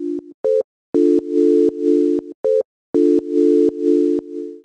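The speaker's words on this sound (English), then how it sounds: "One is the sine wave tone, and then the other is this sort of noise overlay." Synth sine-wave chords layered with a noise overlay, built in Serum, play as bright stacked tones in choppy bursts, short stabs first and then longer sustained chords, with a hiss riding on top.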